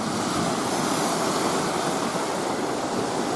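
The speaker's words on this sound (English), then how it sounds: "You have to wait for a wave to come in and then scoop." Waves washing in against a rocky ledge along the Pictured Rocks shoreline, a steady close roar of surf with no distinct individual breaks, wind-like and continuous throughout.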